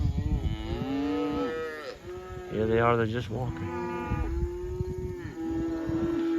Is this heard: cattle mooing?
yes